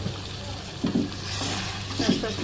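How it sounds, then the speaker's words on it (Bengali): Catla fish heads sautéed in a pan, a steady sizzle with soft scraping stirs of a spatula every second or so, close and moderately loud, no talking. "মাথাটা আস্তে আস্তে কষানো হচ্ছে"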